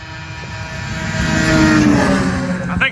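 Snowmobile engines hum steadily out on the ice at an ice-race meet, a loud, sustained droning roar that swells slightly in the middle, with no talk.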